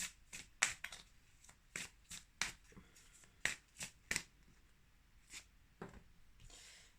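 Oracle cards being shuffled and drawn, a series of soft close riffling flicks and snaps in uneven bursts, fairly faint, with quiet pauses between and no talking.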